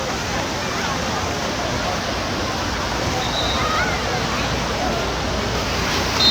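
Small waves in a water park wave pool make a steady wash of surf and sloshing water, continuous and fairly loud throughout, with people's voices faintly mixed in.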